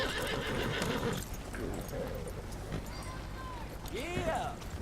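A horse in the video game Red Dead Redemption 2 whinnies near the end after a steady run of hoof clip-clops. Someone talks over much of it while ambient game sound fills the background.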